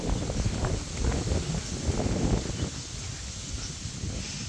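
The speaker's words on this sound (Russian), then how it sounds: "И у нас очень сильный ветер," Strong warm wind blows outdoors on a rural yard, a continuous rumbling gust buffeting the microphone with rustling throughout.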